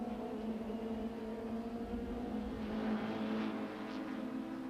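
Super touring race cars at Kyalami circuit in 1995, including Opel Vectras, BMWs and a Toyota Camry, drone past at a distance with a steady engine whine that swells slightly midway.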